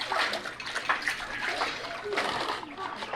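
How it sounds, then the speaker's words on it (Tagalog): Water splashes and sloshes in a basin filled in a backyard for rinsing, with continuous moderate splashing under a speaking voice throughout. "Poso ang aming palanggana. Dito na siya magbabanlaw."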